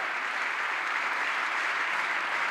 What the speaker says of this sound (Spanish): Dale un fuerte pero fuerte aplauso a Jesucristo el Señor.